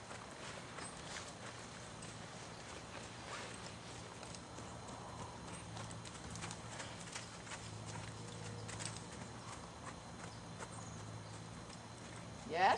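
Hooves of a Morgan horse walking, a steady faint clip-clop under quiet ambient noise and occasional talk, the horse worked toward stepping into water.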